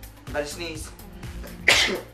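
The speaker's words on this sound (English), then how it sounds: "I'm sorry, I'm about to sneeze." A single sharp sneeze bursts out loud and close, preceded by a brief voiced intake and talk-like sounds.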